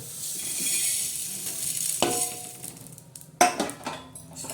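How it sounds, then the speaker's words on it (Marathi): Horse gram dry-roasting on a hot griddle, a soft sizzle and rustle of seeds broken by metallic clinks and scrapes of a utensil against the pan. "आता प्रथम कुळीत हे ना आपण असे भाजून घेणार आहोत गरम तव्यावर"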